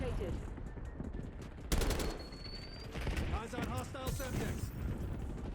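AK74 fire in the Black Ops 6 game, a rapid burst of automatic gunshots with a reinforced barrel, loud and close, layered with game effects and a talking voice.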